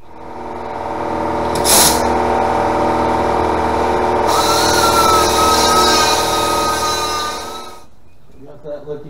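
Power tool beveling and prepping the end of a thin-wall drive shaft tube, a loud sustained whining grind with a sharp burst early on, close by, cutting off near the end followed by faint clinks.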